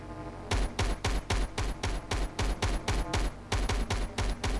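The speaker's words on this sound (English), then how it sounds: "he's shooting through the house" Rapid automatic gunfire in the sci-fi game Starforge, an enemy shooting through a house, comes in loud, regular bursts of sharp shots with brief pauses between volleys.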